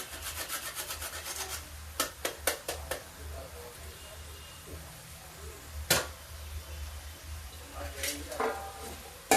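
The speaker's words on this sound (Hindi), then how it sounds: "थोड़ा ये अदरक ग्रेट करके डाल देते हैं इसी में" Ginger grated over a pot of vegetables, an eggplant and fenugreek dish, with a run of short, close rasping strokes, then scattered scrapes and a few louder knocks over quiet background.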